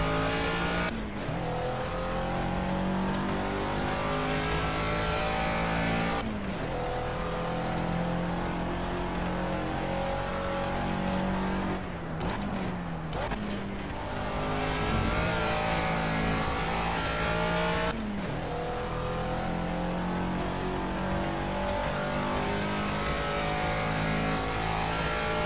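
A Caterham Seven classic lapping Monaco in Project CARS, its engine droning loud and steady with gear shifts and brief lifts, revving back up through the corners, alone without talk.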